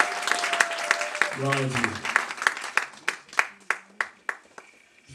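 Church congregation at a dedication service applauding the Lord, loud irregular clapping that swells then thins into scattered distinct claps, while a speaker talks over it.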